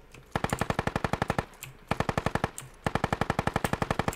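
Machine-gun fire in an action video game, three long rapid bursts of evenly spaced loud shots separated by short pauses, close and dominant with no talk.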